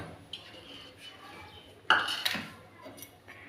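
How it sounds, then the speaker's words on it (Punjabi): A knife cuts an aloo kachori on a plate, making a few soft scrapes, then a sharper pair of clinks of metal against the plate midway, with quieter taps after in a calm kitchen. "ਹੁਣ ਇਹਨੂੰ ਆਪਾਂ ਇਸ ਪਲੇਟ 'ਚ ਕੱਟ ਲੈਣੇ ਆ"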